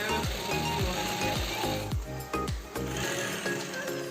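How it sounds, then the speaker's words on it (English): An industrial sewing machine stitches a PU leather diary cover in a diary factory, running as a steady rapid mechanical chatter with regular thumping needle strokes, close and without talk. "Followed by stitching and tailoring to complete the entire cover."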